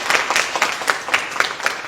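An audience claps loudly in honour of their MD at a felicitation event, a dense, close burst of applause with rhythmic peaks running the whole time and no talking over it.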